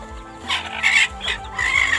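Short-legged bantam chickens cluck in a pen, several birds calling in short bursts close by, with steady low farmyard noise underneath.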